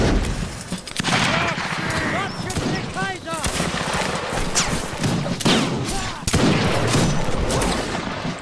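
Scattered musket-style gunfire in the Mount and Blade video game, several sharp shots cracking at irregular intervals, some near and loud, others farther off, over a busy battle din with voices talking.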